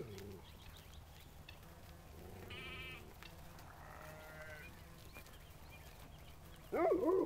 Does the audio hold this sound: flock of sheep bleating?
yes